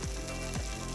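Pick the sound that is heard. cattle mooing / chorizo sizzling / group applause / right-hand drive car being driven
chorizo sizzling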